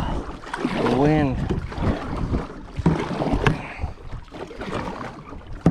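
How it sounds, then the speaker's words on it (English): Gusty wind rumbles and buffets the microphone on the water while someone fishes from a kayak, with a person talking over it throughout. "Wind sure putting up a fight."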